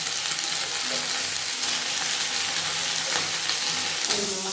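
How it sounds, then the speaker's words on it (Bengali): Broken wheat (dalia) fries in a pan with raisins, giving a steady close sizzle with occasional scraping stirs and soft clicks, continuous and fairly loud with no talking. "এখন তো এটা ভাজা হবে।"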